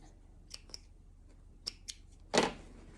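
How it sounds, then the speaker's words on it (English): Scissors snipping sewing thread after stitching: a few quiet, sharp clicks of the blades, then one louder, brief cutting snip close by in a near-silent room. "cut your thread"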